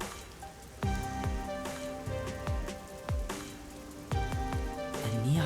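Rain falls steadily in a busy neon-lit city district inside the video game Master Detective Archives: Rain Code, a soft continuous patter under recurring chimes and faint musical tones.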